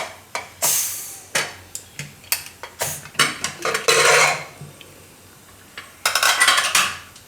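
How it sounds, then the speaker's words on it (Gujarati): A pressure cooker being opened in a home kitchen, with a series of sharp metallic clanks and clinks of lid and pot handling, then a short hissy rustle and more clattering, close up. "કુકર જોઈ લઈએ આપણે ખોલીને."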